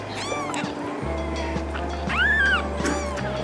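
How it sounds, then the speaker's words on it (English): Young tabby kittens meowing, several thin, high rising mews at irregular intervals, close and fairly clear over a low steady background hum. "So both Emily and Lily's kittens are opening their eyes early."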